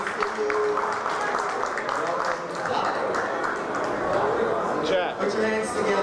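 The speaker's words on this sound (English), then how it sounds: "a big round of applause to Daryl Kent." An audience claps and cheers for Daryl Kent at a Mr. & Miss Gay Black USofA pageant, steady applause filling the room over six seconds while an emcee's voice carries over the top.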